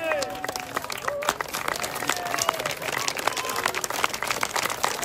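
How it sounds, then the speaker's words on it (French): Audience applause at a medieval festival at Château de Thillombois after a round of a team match, a steady wash of clapping with crowd noise, while an announcer's voice carries over it throughout. "On les applaudit s'il vous plaît."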